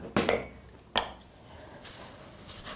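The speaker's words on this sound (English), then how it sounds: "Just make sure that they're all thoroughly mixed together using a wooden spoon or a metal spoon." A spoon clinks twice against a pot while butter and golden syrup melt together for Anzac biscuits, followed by quieter scraping and stirring.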